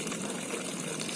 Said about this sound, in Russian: Побежала водичка.